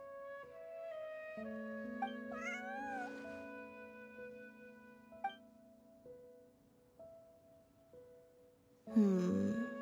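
Several short cat meows from Genshin Impact sound one after another, light and fairly quiet, over a soft sustained musical background, ending in a louder, drawn-out meow.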